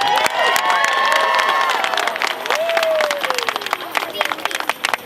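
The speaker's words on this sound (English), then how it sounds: "I need to hear a round of applause for all of you for coming out here today" Rally crowd at a school choice event on the Capitol grounds applauding and cheering, dense clapping with voices and shouts mixed in, loud and sustained throughout.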